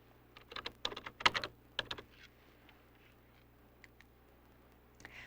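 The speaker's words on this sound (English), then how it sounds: "I'm going to type wedding in the gift.com search box and click on search" A computer keyboard in a home computer setup, with a short burst of close, crisp key clicks typing a search, then a pause and a couple of isolated taps, quiet and with no voices.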